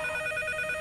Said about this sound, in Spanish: Mira, está sonando el teléfono.